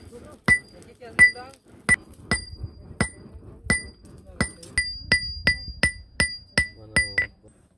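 Metal is struck by a hammer in sharp, ringing blows while a file is forged by Datoga people in Tanzania, about a dozen irregular strikes that quicken toward the end, close and clear.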